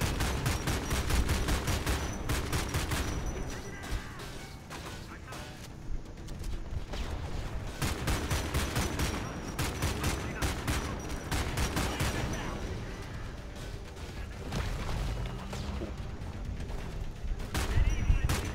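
Rapid gunfire in the video game Homefront The Revolution: dense, continuous bursts of automatic shots and sharp cracks with booms, loud and sustained throughout, while players talk faintly over it.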